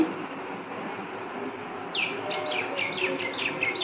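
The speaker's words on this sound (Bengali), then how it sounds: "বাইরে পাখি কিচির মিচির কিচির মিচির" Birds chirp outdoors in a rapid series of high, short tweets that start about halfway through, over a soft steady background hiss, moderately near and with nobody talking.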